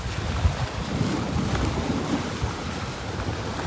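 Wind gusting across the microphone at St. Angelo Fort in Kannur, a seaside fort: steady low buffeting rumble with occasional louder thumps, no voices.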